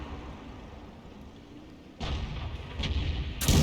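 A SU-14 self-propelled artillery gun fires in a video game: a heavy blast erupts after a quiet stretch, followed by a rolling rumble, then a second sharp boom near the end.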